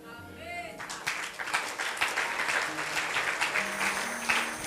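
A church congregation applauds during a sermon, a dense sustained clapping that swells and continues throughout, with voices and music audible underneath.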